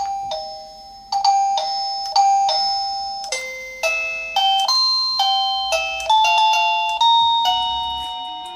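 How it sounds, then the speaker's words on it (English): An ABETAP doorbell chime box rings out a loud sequence of bright electronic ding tones, each note struck crisply and left to ring before the next, with no other sound. "It's a nice chime."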